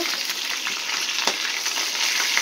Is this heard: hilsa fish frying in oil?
yes